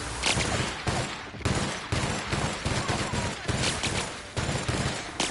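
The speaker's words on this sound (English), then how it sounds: "the light machine gun's not all that great" A light machine gun fires in a video game: loud repeated bursts of rapid gunfire, each burst lasting about half a second with short gaps between, continuing throughout.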